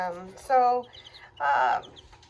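Dual-purpose chickens cluck in short bursts close by, a few calls spaced apart with quiet gaps between them.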